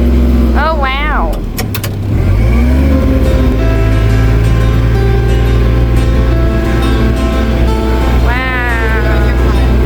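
A car drives around a farm with a constant low engine drone and road rumble close inside the cabin. Voices talk over it, and a high whining sweep rises at the start and near the end.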